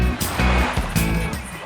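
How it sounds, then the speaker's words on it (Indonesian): Artificial waves surge and wash through a wave pool at a water park, a loud, dense churning of water with repeated swells rolling in close to the listener. "Yang paling dicari sama pengunjung salah satunya adalah wave pool alias"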